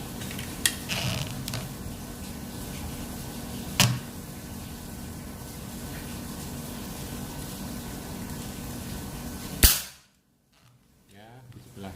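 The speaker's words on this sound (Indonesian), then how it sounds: "Tembakan yang kedua." A sharp single crack from a Predator Monel Ataman folding PCP air rifle, 4000 PSI with a 50 cm Yumaja slug barrel, cuts through steady outdoor hiss, preceded by a couple of small clicks and followed by abrupt quiet.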